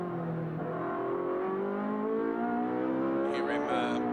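A race car engine, heard on board during a Trofeo Pirelli race at Portimao, screams loudly at high pitch, its tone climbing steadily, then dropping sharply as the gear changes before it climbs again.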